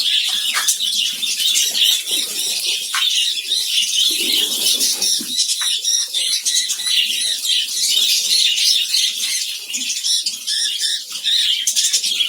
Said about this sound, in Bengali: পাখিগুলো দেখেন কত ভয়ে ছোটাছুটি করতে করতে একদম হাঁপাহাঁপি করতেছে